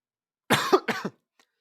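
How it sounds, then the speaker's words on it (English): Two sharp coughs in quick succession, close and loud, followed by silence. "Oh, I'm gonna cough."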